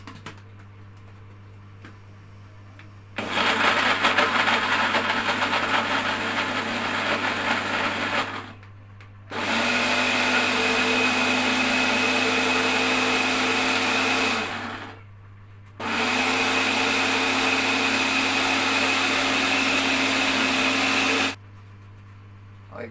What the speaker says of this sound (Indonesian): Oke, kita sekarang blender.